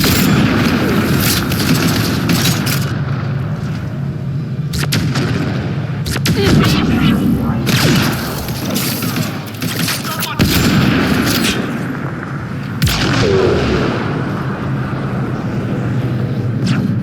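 Intense gunfire and explosions in a firefight on Havarl in Mass Effect Andromeda, loud bursts of shots and heavy booms over a constant battle din, with voices calling out amid the shooting.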